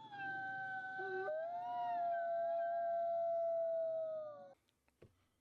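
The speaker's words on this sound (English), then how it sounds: "Listen to audio recordings of wolf howls if you can." A recorded wolf howl: one long, loud, steady tone that bends up and then slowly sinks, lasting about four seconds before breaking off, followed by a few faint clicks.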